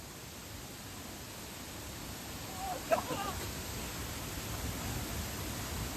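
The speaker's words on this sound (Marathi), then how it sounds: "शेवटी पडसाळीच्या धबधब्याजवळ आलेलो आहे" Padsali waterfall in the Mudagad jungle, a steady broadband rush of falling water heard from nearby throughout, with a brief faint voice-like sound near the middle.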